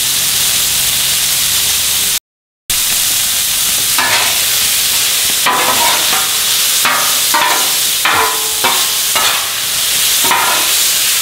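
Steak tips fry in a hot pan with a constant loud sizzle, joined by repeated scraping and stirring strokes, and a short silent break near the start.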